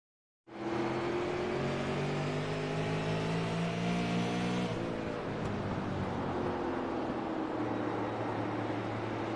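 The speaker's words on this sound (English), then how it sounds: "just listen to the engine on that machine" A race car engine roars loudly and steadily, with rising harmonic tones as it revs, then the pitch drops and settles into a rougher, sustained drone as the engine starts blowing up.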